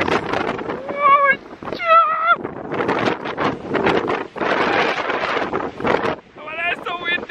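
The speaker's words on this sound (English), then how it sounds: "Oh my god, look at the wind, guys!" Strong gusty wind buffets the microphone on a waterfront in Split, Croatia, at golden hour, a steady broadband roar running the whole time while people talk and exclaim over it.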